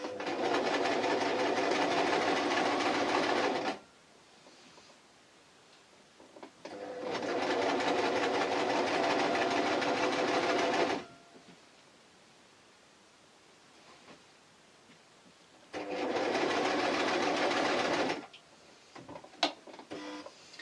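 Serger overlocking a T-shirt hoodie made from fabric blocks. Three long, loud, steady runs of fast machine whirring, each a few seconds long, are separated by quiet gaps. Nobody speaks.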